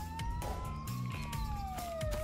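In Thief Simulator 2, a police car siren wails in a rising and falling sweep, loud and continuous over a busy game backdrop with engine rumble and low tones.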